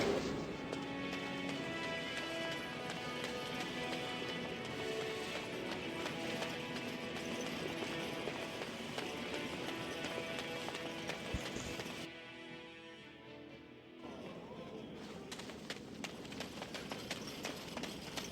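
Rapid clip-clop of galloping horse hooves in the video game Dragon Age: Origins runs steadily over a dense, loud music-like backdrop, briefly thinning near the end before resuming.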